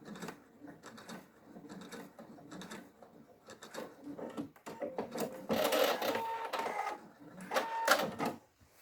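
Short bursts of a sewing machine back-stitching along the same seam of a clutch panel, stopping and starting with mechanical clicks, louder toward the end.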